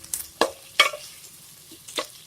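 Mushrooms for mushroom makhani cook in a pan, stirred in a few sparse, sharp scrapes and clinks over a faint, steady sizzle.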